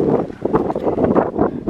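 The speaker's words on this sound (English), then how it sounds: "Sorry if you guys hear a lot of wind." Gusty wind buffets the microphone outdoors beside a custom widebody Dodge Charger, a steady low rumbling roar with flutter that rises and falls in waves through the whole stretch, close and fairly loud with no voices.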